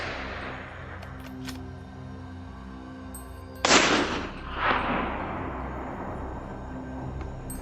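A single sharp rifle shot cracks out during a winter wild boar hunt on a hillside, followed by a rolling echo that fades slowly, then a second swell of reverberation before quiet returns.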